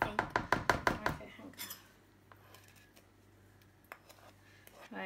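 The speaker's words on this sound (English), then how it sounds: "But shall we mix it with the whisk?" Ginger cake batter whisked in a bowl gives a quick run of about seven sharp, rhythmic clacks up close. The whisking then stops, leaving faint clinks and rustles over a low hum.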